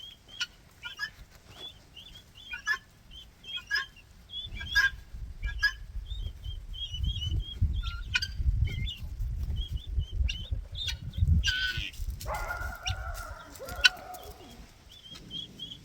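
Newly hatched guinea fowl keets give repeated high, thin peeps through much of the barnyard scene while a mother hen answers with low calls and rustling nearby, and a few louder honking calls rise near the end.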